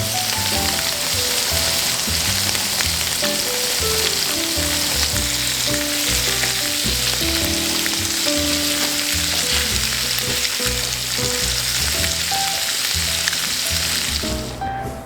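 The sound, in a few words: food browning and sizzling in frying oil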